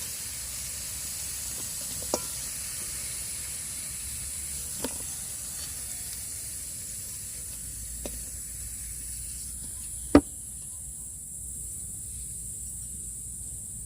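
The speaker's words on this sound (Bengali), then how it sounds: "আলুগুলো কষা হয়ে গেছে, আমি তুলে নিচ্ছি।" Potatoes frying in oil give off a quiet, even hiss close by, broken by a few sharp clicks and knocks as pieces are lifted out of the pan.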